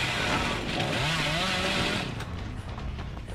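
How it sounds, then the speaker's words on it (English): Revving chainsaw from the horror game Dead by Daylight, a loud, sustained buzzing engine whine that rises and falls in pitch, close and alone. "I don't know if they've made the chainsaw harder or easy to use"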